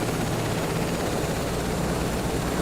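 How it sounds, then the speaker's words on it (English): A helicopter engine in Microsoft Flight Simulator 2024 gives a steady, low, droning burr with a dense rotor rumble, moderately loud and unbroken, with no talking. "Nothing better than the burr of a helicopter engine."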